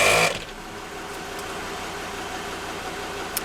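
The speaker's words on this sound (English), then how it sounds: "We'll turn the compressor on." An ARB air compressor runs with a steady, even mechanical hum after a brief louder burst at the start, continuing alone at a constant level.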